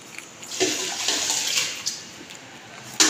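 Water pours into a cooking pot of rice for salty porridge, a steady close splashing and hissing stream that swells and eases over a few seconds, with a sharp clink near the end.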